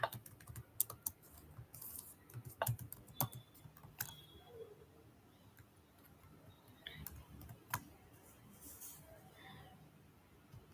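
Sparse typing on a computer keyboard while writing Python code, scattered soft key clicks in short irregular bursts with gaps between, quiet and close.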